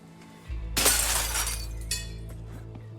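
Window glass smashed open with a loud crash and tinkling shards in the zombie survival game HumanitZ, rising from a low rumble into a bright burst that fades over a couple of seconds, with a second smaller clatter of falling fragments.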